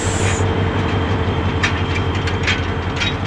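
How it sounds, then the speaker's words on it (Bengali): Upakul Express, an intercity train hauled by locomotive 3020, pulling out of Laksam Junction in Bangladesh: a steady loud engine drone with rolling wagon rumble and periodic clacks of wheels over rail joints. "3020 লোকোমোটিভ নিয়ে লাকসাম রেলওয়ে জংশন থেকে ছেড়ে গেল নোয়াখালীর উদ্দেশ্যে"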